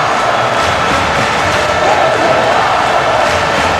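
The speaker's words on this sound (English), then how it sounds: "Crowd loving it." A wrestling crowd at a live event cheers in a loud, continuous roar that swells slightly mid-way and carries through without a break.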